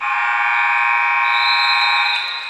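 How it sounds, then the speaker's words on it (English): A loud, sustained electronic game-ending buzzer at a men's basketball game blares steadily for a couple of seconds, a harsh tonal drone that tapers slightly at the end. "the buzzer finishes this game"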